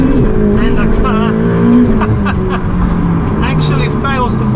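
A Ferrari 488 Pista twin-turbo V8 supercar roars loudly and close by, its engine note climbing as the rear wheels lose traction, with squealing tire noise mixed in and a voice talking over it.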